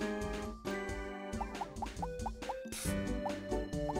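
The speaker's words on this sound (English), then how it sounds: "Add water, some flour, and knead." Water added to flour for gyoza wrappers in Rune Factory 2, heard as a quick series of soft, evenly spaced plops and drips over gentle game music, faint and alone.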